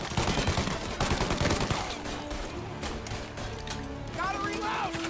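Gunfire in Mafia: Definitive Edition, a dense run of shots crackling through a firefight over music, heaviest in the first seconds, with a voice talking partway through.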